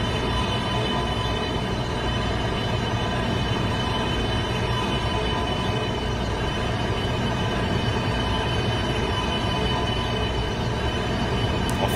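A Chinese CRH2A high-speed train in the Train Sim '15 game rolls along with a steady, dense rumble and hum that holds even throughout.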